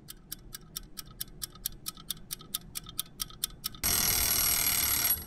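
Rapid, evenly spaced mechanical ticking from a wind-up timer, about four ticks per second, then a sudden loud ringing bell takes over near the end.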